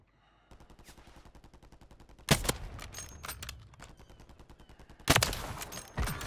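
Two loud, sharp sniper rifle shots ring out in Call of Duty on Rebirth Island, spaced a few seconds apart over a steady, rapid mechanical ticking in the background.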